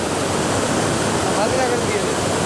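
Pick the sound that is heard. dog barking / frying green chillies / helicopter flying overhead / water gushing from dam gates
water gushing from dam gates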